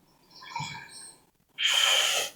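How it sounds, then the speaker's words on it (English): A deep, forceful exhale through the nose during an ujjayi yoga breathing exercise, close and loud, a short rushing breath that follows a softer, quieter inhale. "Take a deep breath. Deep exhale."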